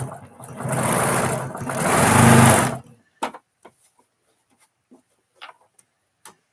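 A sewing machine runs steadily for about three seconds while quilting geese blocks, a close mechanical whir that briefly eases and then speeds up before stopping, followed by scattered light clicks and taps.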